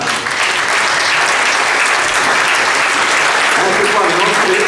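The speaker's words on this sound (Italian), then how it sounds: "ora le chiamerei qui con noi per un meritato applauso, Francesca Maggiori e Katia Berton." An audience at the final evening of the Prunola 2019 event applauds the hostesses with steady, dense clapping that stays strong from start to end.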